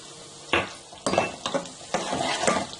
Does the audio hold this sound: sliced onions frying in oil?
yes